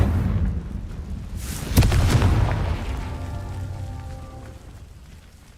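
A Confringo blasting spell in Hogwarts Legacy bursts with a sharp boom, then a rumbling explosion tail that fades slowly over several seconds, alone without talk.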